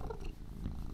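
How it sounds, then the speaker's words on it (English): A cat purrs steadily and close, a soft continuous low rumble with a faint breathy rhythm, heard alone without talk. "Some super purring going on."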